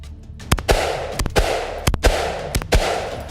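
A FAMAS F1 assault rifle fires six loud, sharp shots in an uneven rhythm, each crack ringing out briefly with no talk over it.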